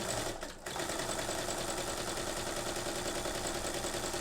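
A domestic sewing machine stitches calligraphy-style embroidery lines, running in a steady, continuous mechanical buzz close by, with a brief dip near the start and no talking.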